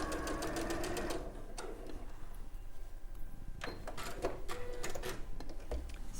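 A sewing machine runs steadily, stitching the seams of a fabric panel, a continuous close mechanical whir with faint clicks and soft handling noises over it, no speech.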